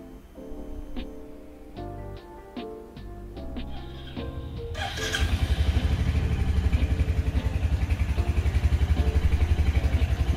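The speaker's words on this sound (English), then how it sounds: "listening to my motorbike inside the garage running" A Royal Enfield Hunter 350 motorcycle engine starts up after some clattering and metallic clicks, then idles with a loud, steady, fast-pulsing rumble inside a garage.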